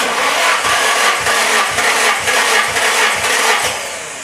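A Nissan 240SX SR20DET engine cranks over on the starter during a compression test, giving a loud, steady rhythmic chugging of about eight even pulses that fades slightly at the end, with no talking.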